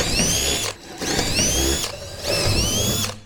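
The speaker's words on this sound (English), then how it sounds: "I'll drill a hole in them" A power drill bores a hole in a wooden snowmobile seat base in a garage, in three loud, whining bursts of about a second each with short pauses between them.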